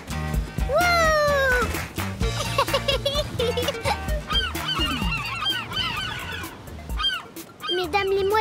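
A flock of cartoon gulls in Bluey squawks and cries loudly, overlapping calls rising and falling close by, with a voice mixed in among them.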